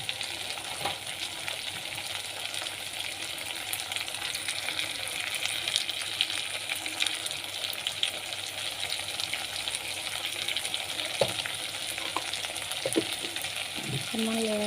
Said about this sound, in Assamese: অকণমান লৰাই দিম।